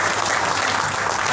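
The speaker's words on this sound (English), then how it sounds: "Clapping." An audience at a powerlifting event applauds, a dense steady wash of clapping that fills the whole moment without pause.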